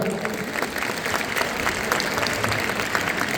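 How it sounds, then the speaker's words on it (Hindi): Crowd of students, teachers and guests applauding at a school event, continuous mixed clapping at an even level that carries through the whole stretch without speech. "एक बार जोरदार तालियां"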